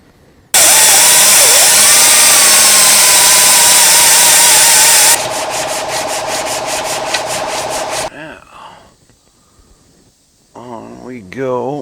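Power tool scrubbing hard on a metal engine part, a loud steady broadband grind for about five seconds shifting to a rougher pulsing rub, then stopping as brief voices and handling noises follow.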